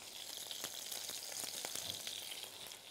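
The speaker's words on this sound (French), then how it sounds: "comme elle a la bonne température, les samoussas ne vont pas du tout absorber toute l'huile" Goat cheese samosas frying in hot oil, a continuous close crackling sizzle with scattered sharp pops, steady in level and heard alone.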